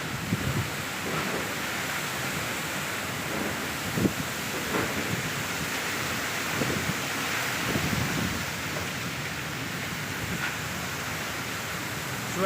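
Strong wind gusting through the city of Surabaya, a steady, faint broadband rush with buffeting against the microphone and occasional soft thumps.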